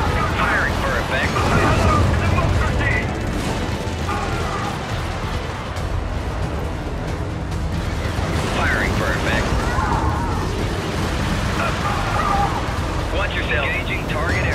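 An artillery barrage in the video game Helldivers: repeated heavy explosions rumble and crash across a continuous battle din, while a voice talks over the blasts.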